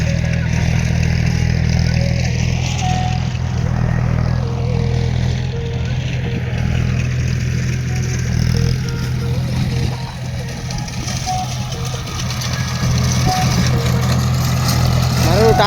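A tractor with a rotavator tills soil in an oil palm plantation, its engine droning steadily and loudly throughout with a low, constant rumble, while a voice and music play faintly over it.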